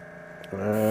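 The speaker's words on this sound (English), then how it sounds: "Mr. Compressor is up and running." An air compressor switches on about halfway through, its motor settling into a loud, steady, rising hum after quiet room tone.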